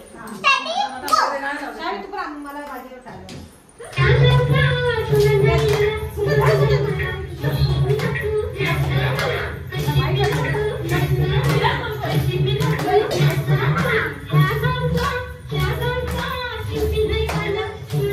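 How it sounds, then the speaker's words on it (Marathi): Rhythmic hand clapping between people circling during a Mangalagaur celebration at the Ganapati festival, quick patterned claps running under a sung chant with children's voices throughout. "असं गोल गोल फिरत फिरत टाळ्या द्यायच्या"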